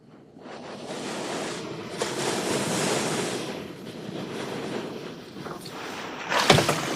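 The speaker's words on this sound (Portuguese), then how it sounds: "logo chegamos a Beauvalon, a praia mais longa e popular da ilha" Ocean surf washes steadily onto Beau Vallon beach on Mahé in the Seychelles, a continuous broad roar of breaking waves with some wind buffeting the microphone and a brief louder splash near the end.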